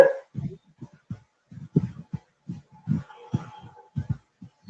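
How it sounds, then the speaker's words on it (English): Dog barking in the background of an online call, a string of short, muffled woofs in an irregular rhythm with brief pauses and faint talk in between. "while the dog has stopped barking"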